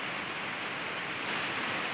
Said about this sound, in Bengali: বলতে না বলতেই দেখো বৃষ্টি নেমে গেছে